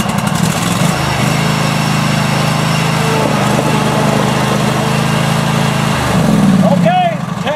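A Craftsman hydrostatic lawn tractor's engine drones loudly and steadily nearby while its wheels spin against blocks, then lifts briefly in pitch before cutting off near the end.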